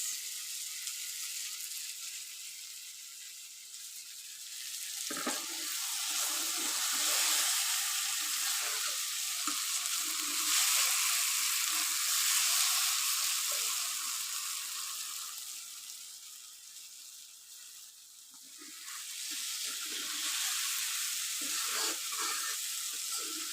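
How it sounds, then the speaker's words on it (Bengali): Hilsa fish frying in a pan gives a steady, close sizzle and hiss that swells and fades over time, with soft stirring or movement sounds underneath. "মাছ রান্না হচ্ছে"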